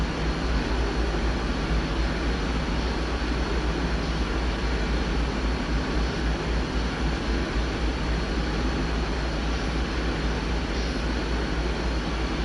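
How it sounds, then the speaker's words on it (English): A steady, loud mechanical roar and hum from a locomotive under dynamic braking, continuous and unchanging throughout, with no voices. "this train's got good dynamic brakes"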